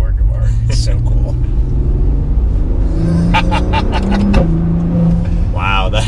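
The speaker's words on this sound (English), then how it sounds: "the exhaust valve opened up, and wow, that already sounds way better" The deep exhaust of a 2021 Maserati Levante S Q4 SUV in sport mode, valve open, rumbles steadily, close and loud, with brief throttle blips while a person talks over it.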